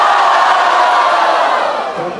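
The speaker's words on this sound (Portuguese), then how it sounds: "barulho pra quem gostou das rimas de guri" A loud, dense crowd cheers and shouts without a break at a street rap battle in São Paulo, a roar of whoops and yells reacting to a rapper's verse.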